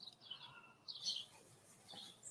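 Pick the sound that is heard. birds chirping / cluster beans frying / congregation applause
birds chirping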